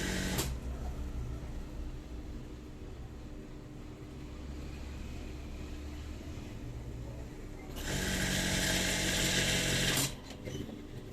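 An electric sewing machine stitches pieces of a white round-neck church garment, running with a steady mechanical whir and then rising into a louder, faster burst near the end before stopping, close and alone without talk.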